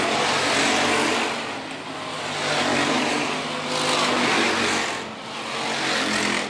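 Hobby stock race cars roar around the Phillips County Raceway dirt track, engine noise swelling and fading in waves as the pack comes out of a corner and passes by.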